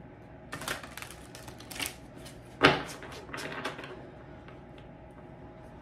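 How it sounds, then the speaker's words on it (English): Tarot cards are shuffled by hand in a quiet room, a few soft riffling bursts and taps spread over several seconds, with one sharper snap in the middle. "Okay, one more shuffle."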